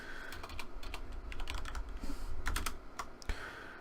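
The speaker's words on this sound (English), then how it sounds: "So I'm just going to type tFlow" Rapid, uneven keystrokes on a computer keyboard clatter nearby in bursts for about four seconds, with no voices.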